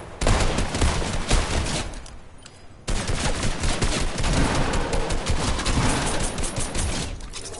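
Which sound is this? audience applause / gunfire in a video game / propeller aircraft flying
gunfire in a video game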